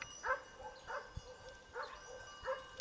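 Sheepdogs bark around a grazing flock in open country, four or five faint, distant barks spaced at roughly even intervals against a quiet background.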